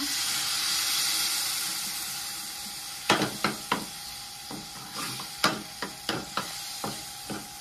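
Water poured a little at a time into hot oil in a pan while cooking crabs, first a steady loud sizzle, then a series of sharp crackling bursts as more water hits.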